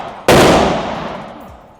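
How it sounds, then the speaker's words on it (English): A single loud, booming blast at an outdoor shooting range from a nearby cannon, with a long rolling decay that fades over more than a second; no talk. "he's shooting a cannon over there"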